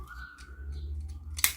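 Scissors cutting crochet yarn: a single sharp close snip near the end, following a quiet stretch of faint handling noise.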